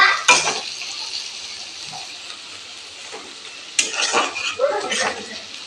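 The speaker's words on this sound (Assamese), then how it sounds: "এনেকৈ আকৌ লৰাই দিছোঁ।" A spoon scrapes and clatters through onions and ground cumin in a pan, with two louder bursts of stirring and a faint sizzle between them, close and without speech.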